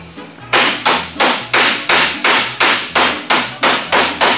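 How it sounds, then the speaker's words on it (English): A professional body hammer taps sheet metal during rust repair on a 1969 Volkswagen Karmann Ghia, striking about a dozen sharp, evenly spaced metallic raps, loud and close, with no talk. "And I'm taking my hammer."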